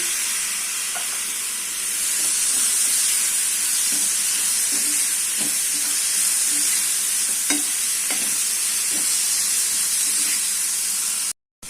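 Three chopped medium tomatoes go into sizzling ginger-garlic for a drumstick stir-fry, with a constant close frying hiss, spoon-stirring scrapes and occasional light clinks over about eleven seconds.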